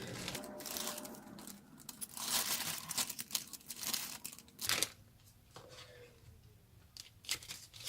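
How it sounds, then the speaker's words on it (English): Paper for a folio craft is cut, giving close, quiet crinkling and rustling strokes and sharp snipping scrapes that come in uneven bursts, with no talking. "And I'm only going to cut as much as I feel I need."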